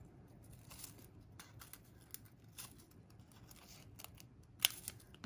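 Scissors snip through a sheet of gold foil in several quick, crisp cuts with faint crinkling in between, heard close and fairly quiet, with a sharper final snip near the end.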